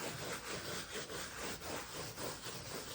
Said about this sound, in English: I'm distributing the wax cleaner and getting off any embedded dust, dirt